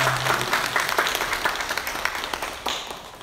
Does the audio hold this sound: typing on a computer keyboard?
no